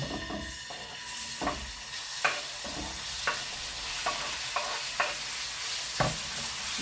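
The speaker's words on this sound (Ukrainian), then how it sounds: "М'ясо розкладаю і не перевертаю до того часу, поки воно повністю підсмажиться і не почне перевертатись." Meat fries in a hot pan for lazy cabbage rolls, giving a constant close sizzle broken by several sharp utensil scrapes and taps at irregular intervals.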